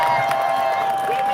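Crowd at a Democratic Party election campaign launch rally in Incheon applauding and cheering, a steady dense roar of clapping and voices that stays loud throughout the short stretch.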